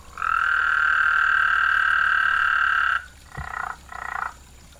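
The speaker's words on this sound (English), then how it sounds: "Once you get several males, they'll change their calls and they work together and form a chorus." Male frogs calling at a backyard pond: one long, steady, high trill for about three seconds, then two short buzzy trills, close and loud with no voices.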